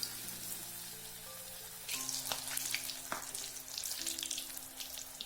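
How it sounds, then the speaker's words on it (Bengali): Onion pakoras (piyajer chop) fry in hot oil over medium-low flame, a soft continuous sizzle with bursts of crackling popping that grow busier after a couple of seconds. "একই প্রসেস ফলো করে আমি বাকি পেঁয়াজের চপগুলো ভেজে নেবো"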